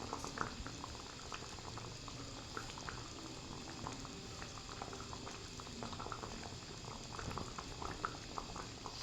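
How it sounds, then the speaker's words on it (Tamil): Lentil-ball gravy (paruppu urundai kuzhambu) simmers in a pot on a medium flame, giving a steady, continuous bubbling and gentle popping that stays even throughout at a moderate, close level, with no voices. "உருண்டெல்லாம் நல்லா வெந்துடும் மிதமான தீயில இருக்கட்டும் குழம்பு"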